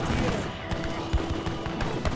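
Falconet and siege cannon fire from an Age of Empires 3 battle with organ guns, a rapid ragged volley of sharp pops and thuds over a busy battle din, with a commentator talking over it.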